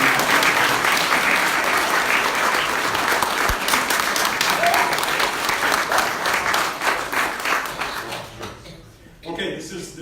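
A large audience at an awards ceremony claps steadily and loudly, the applause thinning and fading out near the end as a few scattered claps linger.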